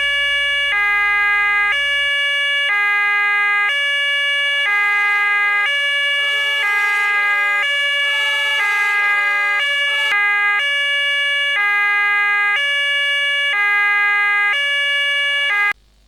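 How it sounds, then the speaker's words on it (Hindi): Emergency vehicle siren on the road, a loud electronic two-tone wail cycling steadily for about sixteen seconds, close and continuous with no talk over it. "रोड पर ड्राइव करते हुए अगर पीछे से सायरन की आवाज़ आ जाए"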